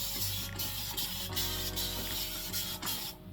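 A handheld spray bottle mists water onto hair during an at-home bixie haircut, giving several short, close hissing bursts at irregular intervals over a steady low mechanical hum, with no talking.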